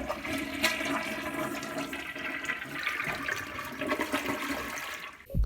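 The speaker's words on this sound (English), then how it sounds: "a toilet flushing can also be a fire alarm" A toilet flushing, a continuous rushing gush of water with broad hiss that runs steadily for several seconds, close and fairly loud, heard alone with no voices.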